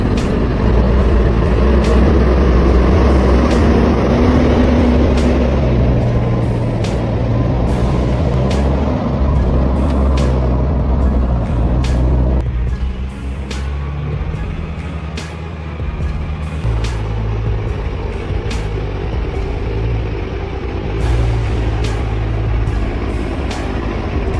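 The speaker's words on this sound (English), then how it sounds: "The giant truck roared, its wheels spinning in the thick mud" A giant logging truck struggling off-road in thick mud, its engine roaring loud and close with a steady heavy drone, sharp clanks and hisses punctuating the strain, dipping briefly midway before surging again.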